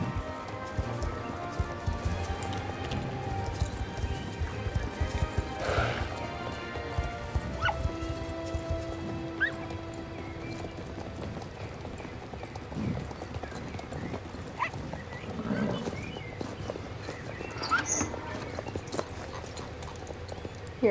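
Horse hooves clip-clop steadily in the online horse-riding game Star Stable, a continuous trotting patter over looping game music and ambient effects, with a few brief whinny-like and game sound cues along the way.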